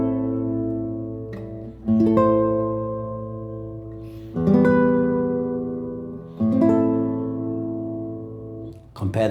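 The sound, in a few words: guitar note played with vibrato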